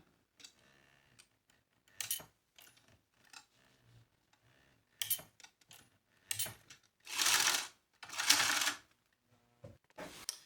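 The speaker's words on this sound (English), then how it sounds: "now I'm going to go and baste this close" A sewing machine basts a fabric fanny pack shut, its stitching heard as several separate runs of rapid mechanical whirring and ticking, with two longer, louder bursts near the end and quieter clicks and pauses between them.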